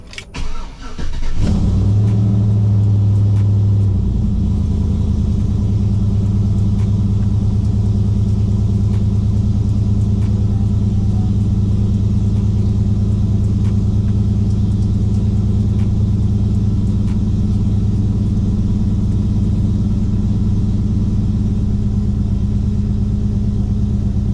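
A Gen 3 engine running a stock file under HP Tuners cranks briefly, fires up and settles into a loud, steady low rumbling idle as it warms up, close and continuous throughout.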